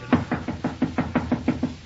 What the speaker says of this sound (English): Amby Potts, open up this door.